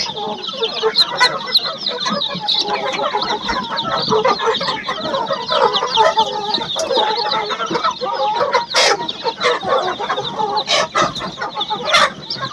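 Newly hatched chicks in an incubator on a farm peep constantly in a dense, high, overlapping chorus, loud and close, with a few sharper chirps standing out.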